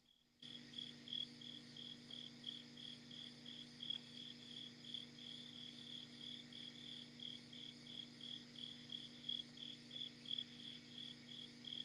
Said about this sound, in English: We literally hear crickets.